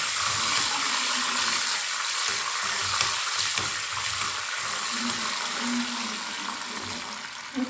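Cashew nuts sizzle in hot fat with cumin in a pan while a bamboo rice payasam is being made, a steady bright hiss with crackling that carries on throughout.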